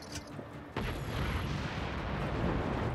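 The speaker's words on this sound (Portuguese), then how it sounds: "Isso é o nível da explosão." A bazooka blast in the video game Just Cause 3, a sudden heavy explosion that follows brief game sounds and then rumbles on as a loud, sustained roar.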